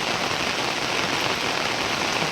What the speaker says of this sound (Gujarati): વરસાદ એકદમ જોરદાર પર જોરદાર પડી રહ્યો છે